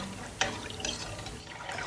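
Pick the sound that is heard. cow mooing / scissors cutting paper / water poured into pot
water poured into pot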